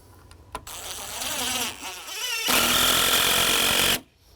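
A power drill drives screws into wooden deck boards, with a whining buzz that rises in bursts, pauses briefly, then runs in a louder sustained stretch before stopping abruptly, close and loud.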